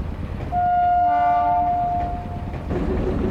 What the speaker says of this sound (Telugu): ఎంత మెల్లగా వస్తుంది చూడండి ఆ ట్రైన్.